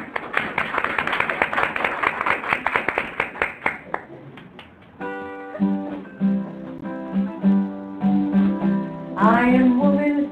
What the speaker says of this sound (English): Let's give Amanda and Rebecca a big round of applause.